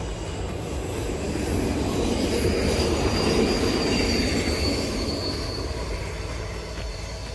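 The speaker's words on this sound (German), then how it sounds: "So, jetzt kommt da noch gerade ein Zug." A train rolling past close by near a small railway bridge in the Taubenloch gorge area near Biel, a loud steady rumble of wheels with squealing and faint clicking on the rails that swells and slowly fades, with no voices.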